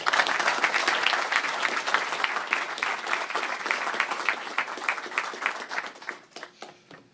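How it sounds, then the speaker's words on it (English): Audience applause for Colonel Ron Battelle at a Guns N' Hoses press conference, a steady wash of many hands clapping that thins and fades out near the end. "Please give a nice round of applause to Colonel Ron Battelle."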